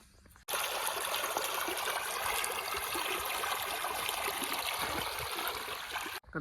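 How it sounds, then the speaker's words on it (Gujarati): Steady rushing flow of canal water pouring into a farm field of alfalfa, continuous and fairly loud, with no voices over it. "તમને પાણી બતાવી દઉં કેવું કેનાલનું પાણી આ આવે છે ખેતરોની અંદર"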